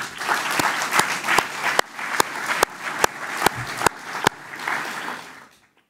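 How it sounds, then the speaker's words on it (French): Applause from an audience at a greentech event opening, a full crowd clapping steadily with a strong rhythmic beat, then fading out near the end. "Ça aussi, ça mérite quelques applaudissements"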